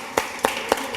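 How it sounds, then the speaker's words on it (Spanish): In a church, a congregation claps in a quick, even rhythm, four sharp claps in about a second, close and distinct with no voices. "démosle un aplauso fuerte al Señor"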